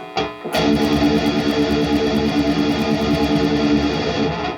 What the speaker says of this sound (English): I'm gonna give some distortion, and you're gonna hear the picks.